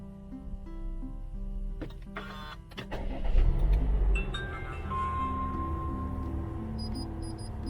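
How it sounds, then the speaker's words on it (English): A car's engine starts at the press of a push button while the brake is held, settling into a steady idle hum with a low rumble near the middle and faint clicks and electronic chimes around it. "how to start the car is to press this engine."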